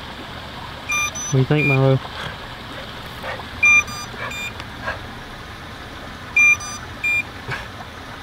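Underwater drone emitting short repeated electronic beeps, several spaced bursts out on a lake in the morning, with a person speaking and a brief low engine-like rumble in between.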